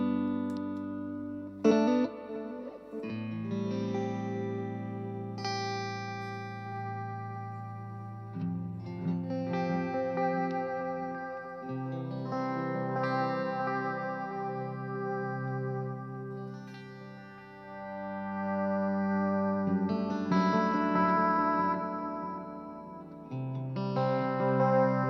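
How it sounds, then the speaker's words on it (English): Electric guitar played through an Echo Man bucket brigade analog delay mini pedal with modulation, sustained chords and single notes trailing into warm repeating echoes with slight chorus-like wobble, steady and moderately loud with no speech. "here is another pedal, which is the Echo Man. Echo Man is a bucket bridge delay."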